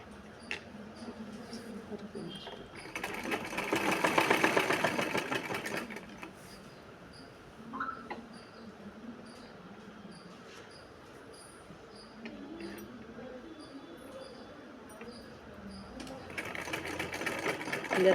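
A sewing machine stitches a blouse sleeve, whirring in two clear bursts at the start and end with quieter stretches between, while someone talks softly over the work.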